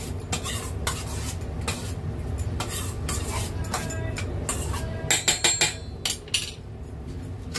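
Yogurt being mixed into raw mutton pieces for a marinade, with steady wet stirring and scraping in a bowl and a few sharper clanks near the end, close by and without talk.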